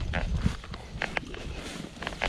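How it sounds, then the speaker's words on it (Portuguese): A mare's hooves clop on the ground in an irregular series of close, fairly loud knocks, with a rustic rodeo-ranch setting and no talk over them. "A égua tá querendo pular comigo no lombo."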